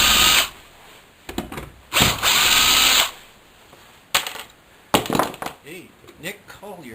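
A power drill backs screws out of a jewelry display case, with a few short, loud whirring bursts separated by pauses and handling clatter and nobody speaking.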